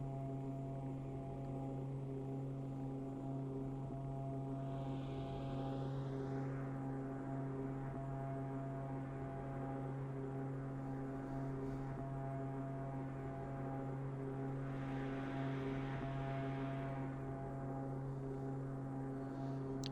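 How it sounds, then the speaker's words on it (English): An Embraer EMB-110P1 Bandeirante propeller engine in Microsoft Flight Simulator drones continuously with a steady buzzing hum and a repeating, looped quality, plus faint whooshes. "can you see that repeating engine noise?"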